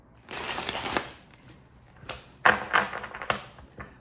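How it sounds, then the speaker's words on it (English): Tarot cards are shuffled in a quick riffling burst, followed by several sharper snaps and taps as the deck is squared, close and fairly loud with no talk over it. "Let's get one more shuffle."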